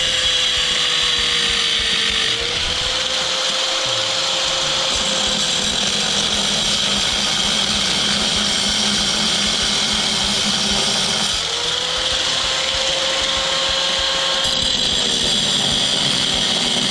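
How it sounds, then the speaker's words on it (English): An old angle grinder cuts through the screwed-down parts of a scrap electric motor, whining loudly and continuously at close range, its pitch sagging and rising as the disc bites into the metal. "let's use the old grinder and see what we can do with that"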